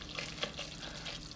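Spiced masala frying in ghee in a pan while being stirred, a steady soft sizzle with faint scraping and small crackles, close and continuous throughout, no voices.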